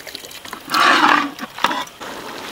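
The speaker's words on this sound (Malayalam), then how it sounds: "കുറച്ച് വെള്ളം ഒഴിച്ചു കൊടുക്കാം" Water poured into a pan of traditional chicken curry masala, a loud gushing splash lasting about a second, then fading into softer trickles and a brief clatter.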